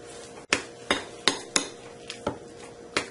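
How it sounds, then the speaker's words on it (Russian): A spoon stirs a sticky mayonnaise-and-marinated-beet appetizer mixture in a bowl, giving about eight sharp, evenly spaced clinks and taps against the dish, close and fairly quiet, with no talk. "Аккуратно перемешиваем."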